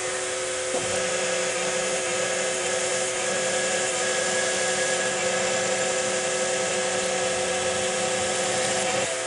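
Continuous loud mechanical whine and grinding of a 25/64 drill bit boring through metal on an old Clausing lathe, steady throughout with no pauses.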